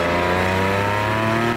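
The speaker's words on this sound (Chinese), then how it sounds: "一阵浑厚的引擎声让不少车迷趋之若鹜。" Deep, rumbling rev from a Porsche sports car engine, loud and close, held steady for over a second and then cut off abruptly.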